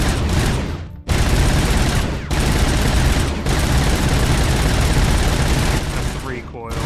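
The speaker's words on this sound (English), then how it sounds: "Full auto, it's insane." Fully automatic gunfire from a weapon in Robocop: Rogue City, loud and close, with long sustained bursts broken by a few short pauses and a brief voice near the end.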